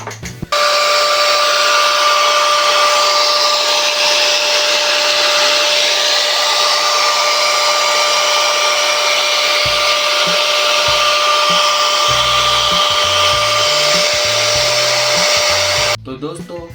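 An electric angle grinder runs continuously for about fifteen seconds: a loud, steady motor whine with a constant tone that cuts in and cuts out abruptly.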